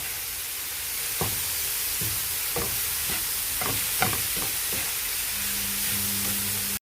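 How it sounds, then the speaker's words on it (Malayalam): Cabbage thoran with green chillies, curry leaves and salt being stirred in a pan over a steady sizzle, with about a dozen soft scraping strokes at an irregular rhythm and a faint hum near the end. "എന്നിട്ട് നമുക്കിതിനെ നന്നായിട്ട് ഇളക്കി കൊടുക്കാം"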